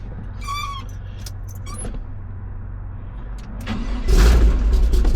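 A 1986 Chevrolet K-20 truck with Holley Sniper EFI starts up after a few clicks and jingles, the engine catching near the four-second mark and settling into a loud, steady idle close by.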